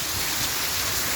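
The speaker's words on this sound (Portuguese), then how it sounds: "Olha, chuva mesmo, chuva aqui" Heavy rain pours down in Sergipe, Brazil, a dense, loud, continuous hiss of water falling with no breaks and no voices.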